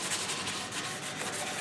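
A guitar body being hand sanded with 220-grit sandpaper, a steady close scratchy rubbing with no talking.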